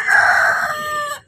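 A sick naked-neck hen gives one loud, drawn-out harmonic call close by, lasting about a second and fading to silence, with no talking.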